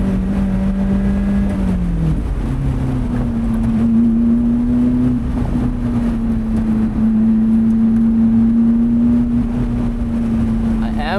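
A Lotus Elise sports car is driven hard along a winding road, its engine a loud steady drone heard from inside, dipping briefly between shifts before holding a high, even tone, while someone talks over it.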